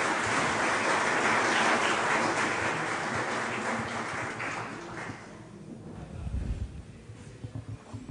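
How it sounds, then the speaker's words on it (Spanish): Audience applause fills a seminar hall as an international speaker, architect Andrew Waugh, is welcomed; a dense, steady wash of clapping holds for about five seconds, then thins and fades out. "Un aplauso"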